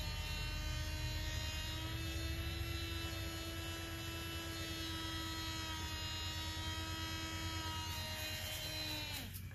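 Small spinner motor whirring as it spins a resin art tile for a jewellery box, a steady close electric hum with a whiny tone that winds down at the end.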